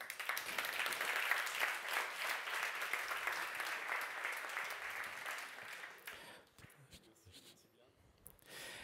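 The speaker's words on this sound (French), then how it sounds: "Donc je vous demande d'accueillir et d'applaudir Yvan." Applause from a business conference audience welcoming a speaker to the stage, sustained for about six seconds before fading into quieter room noise and brief movement sounds.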